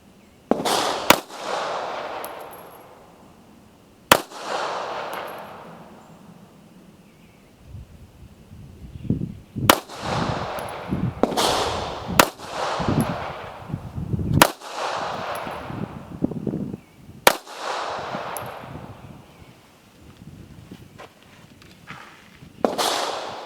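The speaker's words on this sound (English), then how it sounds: "We're just going to shoot at 7 yards, just more or less for accuracy." Taurus Spectrum pistol fired at 7 yards outdoors, about a dozen sharp loud cracks spaced irregularly, some in quick pairs, each trailing a brief echo, with faint rustling and movement between shots.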